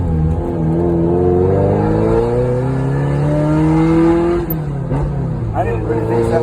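A 1989 Ferrari 348ts with its 36-year-old engine revs up, the pitch climbing steadily in a loud, sustained wind-up before dropping back, heard close with people talking underneath.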